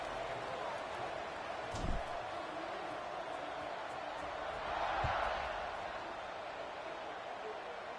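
Faint, steady stadium crowd noise during a kickoff in a college football video game, a broad murmur with a brief swell near the middle and a couple of dull thumps.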